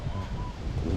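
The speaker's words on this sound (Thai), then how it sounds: "อาทิตย์นี้ลมแรงกว่า รอบที่แล้วนะ" Strong wind blows outdoors by a canal during a fishing trip, a loud steady rushing roar buffeting the microphone with low rumbling gusts.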